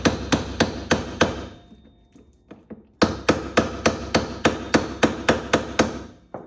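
Hammer blows tapping a 30 mm socket to drive out a rear hub assembly during a brake conversion on an Abarth 500, a steady run of sharp metallic strikes with a short pause and lighter taps midway, close and with no talking.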